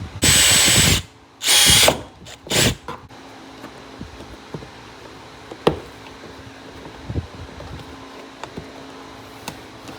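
Three loud bursts of a power drill whirring close by as holes are drilled for fender flares on a 2012-2017 Can-Am Maverick, followed by quieter clicks and knocks.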